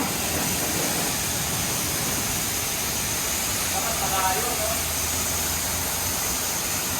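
Strong water spray from a hose washing dirty motorcycles after a four-day Taiwan loop, a steady loud hissing rush that fills the whole clip.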